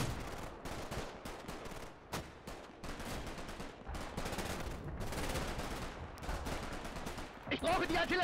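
Dense, continuous gunfire and machine-gun bursts from the video game Combat Mission: Red Thunder during a German defensive operation, with heavy booming shots and explosions layered throughout, loud and sustained, and a rattling burst near the end.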